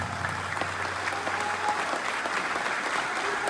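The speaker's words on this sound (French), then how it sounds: "Je vous demande de l'applaudir très fortement" Steady applause from a large audience at a political gathering honoring the president of Niger, a dense, continuous wash of clapping with faint crowd murmur and no clear speech.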